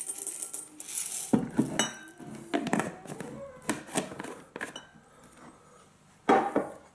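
Dry corn kernels rattle and clatter into a small bowl in several separate bursts, bright scattered ticking, close and clear with no talking.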